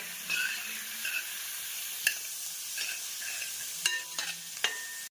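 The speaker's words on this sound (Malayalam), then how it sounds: "ഇനി ഇതിലേക്ക് ചെറിയ ഉള്ളി ചെറുതായിട്ട് അരിഞ്ഞിരിക്കുന്നത് ചേർക്കാം. നല്ലതുപോലെ ഇളക്കി കൊടുക്കുക." Finely chopped shallots frying in a pan with curry leaves, stirred well: a dense, bright sizzle runs throughout, broken by a few sharp spoon taps and scrapes against the pan, close up with no talking.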